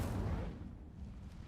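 An Incendio fire spell cast in Hogwarts Legacy, a low muffled whoosh and burst that swells briefly and then fades, faint and distant in tone.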